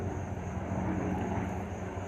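A single-engine propeller plane passes overhead near a busy small-airfield landing and takeoff area, a steady droning engine hum filling the short stretch without any talking.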